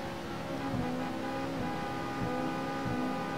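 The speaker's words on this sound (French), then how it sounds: "C'est qui fait que le klaxonner là?" A long, steady car horn blares continuously over engine drone during a race in the video game Assetto Corsa, with a few slight dips in pitch, loud and close.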